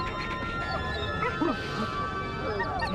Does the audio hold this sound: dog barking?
yes